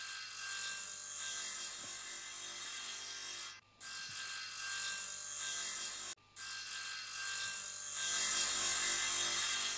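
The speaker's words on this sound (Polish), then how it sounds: "Te mechaniczne piły są bardzo niebezpieczne." Cartoon mechanical saws run continuously in an animated rescue scene, a loud steady buzzing whine that cuts out briefly twice and then resumes, slightly stronger toward the end.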